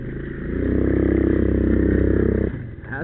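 A smoky 50cc four-stroke ATV with no suspension and carburetor trouble runs close by during a ride, its engine giving a loud, steady, buzzy drone that swells slightly and then drops off near the end.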